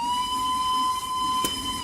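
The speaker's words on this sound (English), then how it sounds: "That's the worst sounding whistle I've ever heard." A steam locomotive whistle in a Roblox game sounds one long, steady, piercing tone over a hissing background, loud and close, with a brief click near the end.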